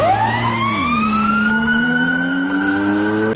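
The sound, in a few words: AI-generated sirens and humming engine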